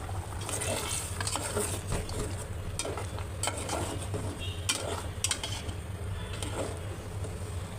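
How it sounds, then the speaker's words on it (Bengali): Onions sizzle and fry in a pan on a home kitchen stove, with a steady crackling bed broken by repeated scraping clatters of a spoon stirring against the pan, close and fairly loud, with no talk. "এখন একটু পেঁয়াজের বেরেস্তা করে বাগা দিয়ে নেব"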